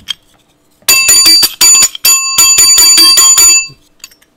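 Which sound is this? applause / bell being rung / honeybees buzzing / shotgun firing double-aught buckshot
bell being rung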